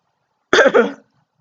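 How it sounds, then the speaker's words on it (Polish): One short, sharp cough close by, then silence. "Mam kaszel, mam kaszel."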